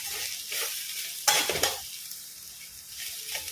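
Grated coconut fries in a pan for a village-style chicken curry, a soft steady sizzle with one brief louder scrape of a spoon partway through.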